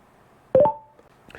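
A Cardo Packtalk Pro motorcycle intercom gives a short rising electronic tone sequence when its jog dial is pressed once, followed a moment later by a fainter second beep; no talking.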